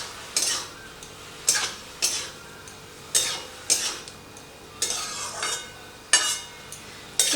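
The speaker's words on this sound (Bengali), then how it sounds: "তো জিরে গুঁড়োটা দিয়ে এটাকে ভালো করে মিশিয়ে দিয়েছি লাউয়ের সাথে।" Spoon scraping and stirring bottle gourd with cumin powder in a pan, about ten evenly spaced scrapes close by over a faint sizzle, no talking.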